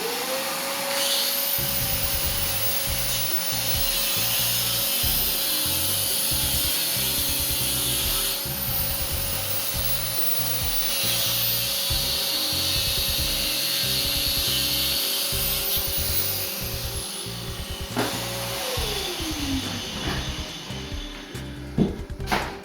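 An angle grinder cuts Hardie backer board indoors, whining steadily for about seventeen seconds over a shop vacuum's constant roar, then spins down and leaves rattling and bumping sounds.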